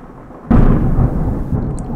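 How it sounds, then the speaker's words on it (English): Sudden loud crack and rumble of thunder breaking in after a quiet half-second, then rolling on as a long heavy drone for the remainder. "Whoa, more thunder."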